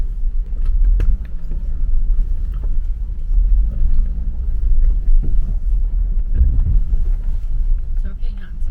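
A car moves slowly over a rough mountain-town road, with a low, bumpy rumble, wind buffeting the microphone and occasional thuds and knocks from the uneven surface, while muffled voices talk now and then.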